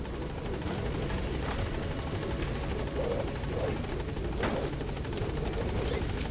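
A helicopter arrives at a landing zone in Metal Gear Solid V, its rotor beating in a steady, rhythmic thump with a constant engine drone that stays even from start to finish.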